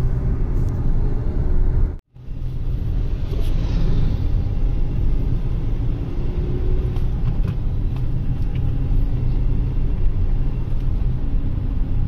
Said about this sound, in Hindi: गाड़ी चला रहे हैं हम